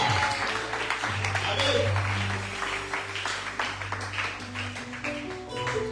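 Worshippers clapping together at a lively praise-and-adoration church service, a steady mass of applause running the whole time, with some voices over it.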